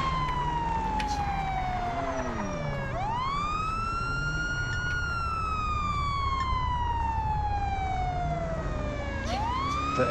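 A loud wailing video game ambulance siren sweeps slowly up and down in long continuous cycles, close by, with a low engine rumble underneath.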